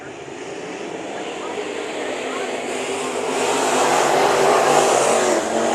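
Sport mod race cars racing at Bakersfield Speedway, their engines a dense, steady roar that swells louder in the second half as the pack comes nearer.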